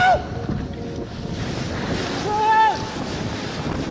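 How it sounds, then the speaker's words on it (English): Heavy ocean waves and strong wind roar steadily against a cruise ship bound for Ireland, with buffeting wind noise and brief high whistling tones rising over the continuous rush. "this cruise ship was on its way to Ireland when it ran into some pretty heavy waves"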